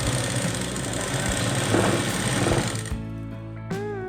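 An electric sewing machine runs steadily while edge-stitching a plain blouse, a dense mechanical whir that cuts off near three seconds, followed by a short burst and quieter room sound.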